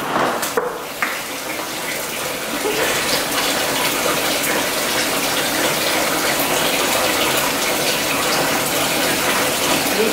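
Water gushes steadily from a tap into a bathtub in a continuous, loud, even rush that fills the whole stretch without a break.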